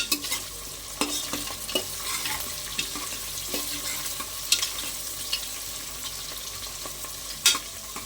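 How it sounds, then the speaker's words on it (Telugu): Cashews fry in hot oil in a pan for vegetable biryani, giving a steady close sizzle broken by sharp scraping and clinking as a spatula stirs. "ఇవి లైట్ గోల్డెన్ కలర్ వచ్చే వరకు వేగనివ్వాలి."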